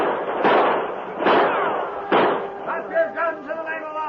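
Gunfire effects in an old-time radio Western drama as men with a sheriff storm up a ship's gangplank: three heavy bursting shots spaced about a second apart, then shouting voices.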